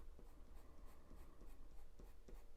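A pencil shades steadily across paper for a parrot drawing, a soft continuous scratchy rubbing with light rhythmic strokes, close and quiet.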